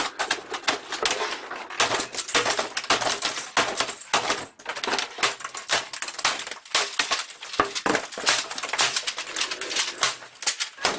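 Computer keyboard hammered in anger during a classic PC game, a dense run of loud, rapid clacking and banging keystrokes with brief pauses, close to the listener, with no speech.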